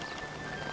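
Steady rain falling in Zelda: Tears of the Kingdom, a dense even patter with no breaks, moderately loud.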